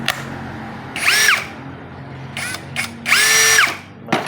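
A Keelat brushless impact drill whirs in two half-second bursts that spin up and wind down, with a few quick trigger blips in between. It is close and loud against a quiet background.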